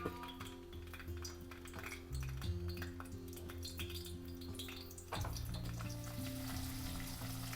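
Eggplant pieces dropped into hot oil and frying, a soft, continuous sizzle sitting quietly beneath prominent background music.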